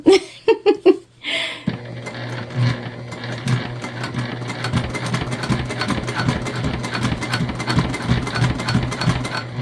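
A sewing machine labours through thick corduroy while stitching a tote bag, running steadily with a low droning hum and uneven motor strain for most of the stretch after a few short bursts at the start.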